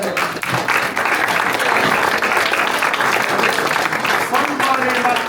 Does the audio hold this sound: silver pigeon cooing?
no